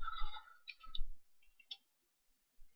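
A computer mouse clicking on online ads, several crisp, quiet clicks spaced irregularly in an otherwise silent room.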